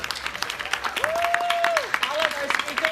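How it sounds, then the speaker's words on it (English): Audience applause at a town hall session of a philanthropy conference, many hands clapping steadily, with a voice briefly calling out over the clapping. "another round of applause for Kevin and Maria Elena."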